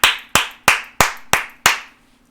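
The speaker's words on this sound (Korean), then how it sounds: "박수." Six sharp, evenly spaced hand claps, close and loud with nothing else in the background, during a Korean political commentary broadcast.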